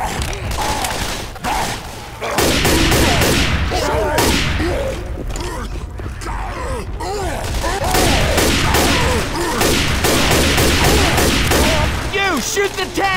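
Heavy, rapid gunfire pours into the Tank in Left 4 Dead, loud continuous bursts and booms close up, with voices shouting over the shooting.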